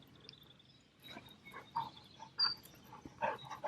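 Litter of puppies making soft whines, yips and grunts while being socialized, a scattered run of short, quiet squeaks and little barks close by.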